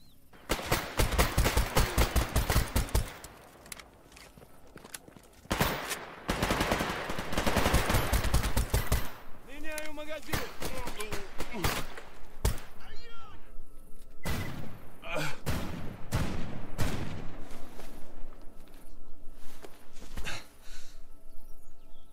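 Gunfire in Stalker Anomaly Gamma, with loud bursts of shots and thuds at the start and middle, and scattered reports throughout.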